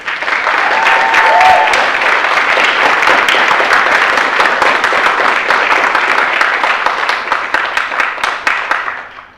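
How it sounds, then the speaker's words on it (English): A library short film festival audience applauds steadily for about nine seconds, dense clapping filling the room at full strength before tapering off at the very end. "Let's give everybody another round of applause."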